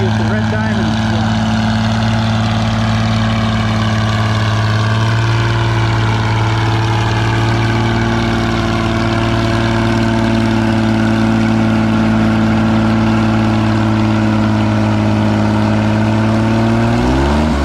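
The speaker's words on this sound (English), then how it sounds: "We got a Farmall 460 with the red diamond swap." A Farmall 460 tractor engine runs steadily and loudly throughout, a deep droning hum with a faint rise in pitch near the end.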